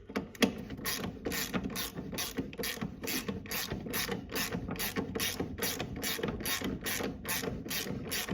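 Rapid ratchet wrench clicking on a front axle nut of a 1988–91 Honda Civic hatchback EF, a steady fast series of close metallic ticks running nearly nonstop throughout.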